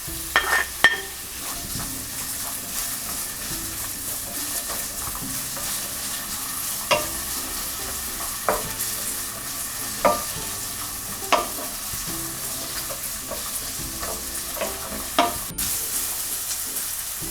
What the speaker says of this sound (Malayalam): ഇപ്പോൾ എണ്ണ ചൂടായിട്ടുണ്ട്. നമുക്കിതിലേക്ക് ക്യാരറ്റ് ഇടാം.